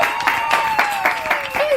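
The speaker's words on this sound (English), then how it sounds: "let's give a round of applause as he joins us" A studio audience claps for a guest joining a TV talk show, brief steady applause with rhythmic claps under a rising tone.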